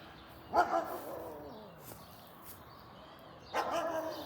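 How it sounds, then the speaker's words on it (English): Dogs at a house with a drooping gutter and junk in the yard bark in two short bursts, a few seconds apart, at moderate distance over quiet outdoor background. "And there's the dogs saying hi to us."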